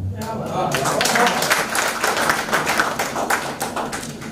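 A crowd in a live audience applauds after a poetry recital, dense rolling claps filling the space for several seconds with voices mixed in.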